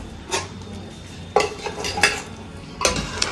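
Cooked food and its water being poured into a pot of dal in a home kitchen, with a few clattering bursts of pot, utensil and stirring noise against quiet background hiss.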